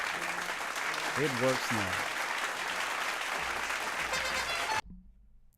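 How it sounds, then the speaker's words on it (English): Canned applause sound effect plays steadily for almost five seconds during a livestream, broad and continuous, then cuts off abruptly; someone speaks briefly over it. "I was trying to stop the applause sound."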